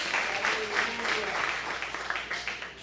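A church congregation applauds during a sermon, a brief wash of many hands clapping at moderate loudness with a few sharper claps standing out near the end.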